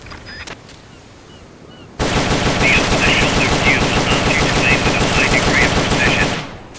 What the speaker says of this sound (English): The M16's a standard assault rifle, capable of rapid fire.